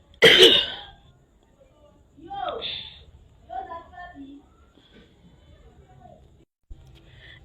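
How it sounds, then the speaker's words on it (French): A man gives one sharp, loud cough, then clears his throat with a few rough, raspy rumbles, with quiet pauses in between. "excusez-moi pour la toux"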